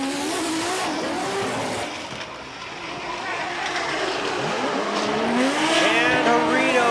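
A Toyota GR86 drift car races in a Formula Drift Japan battle, its engine roaring and revving with rising and falling pitch under a commentator's voice, a second chasing car joining as tires hiss and squeal toward the end.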